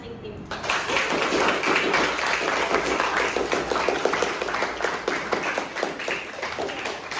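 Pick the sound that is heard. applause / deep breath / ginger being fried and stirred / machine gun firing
applause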